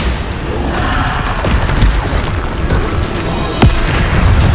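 Bombarda explosion spell in Hogwarts Legacy, cast during a combat trial: a loud booming blast with a sharp burst near the end, over steady rumbling battle noise, with no talking.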